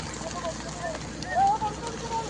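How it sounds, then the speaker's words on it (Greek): Uncontrolled wildfire burning near Patras, Greece, a rough, continuous roar and crackle close by, with wind noise and faint whistling tones, under urgent shouting voices. "Μας περικυκλώνει από πάνω η φωτιά."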